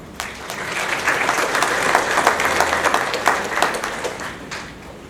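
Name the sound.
applause welcoming a speaker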